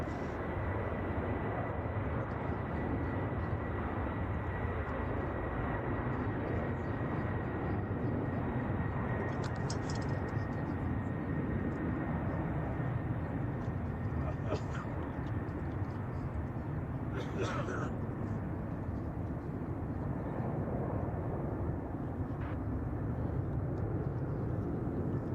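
A Boeing 767 passes at San Francisco Airport as a loud, continuous jet engine roar that holds steady for about 25 seconds, with a faint whine on top and occasional brief knocks.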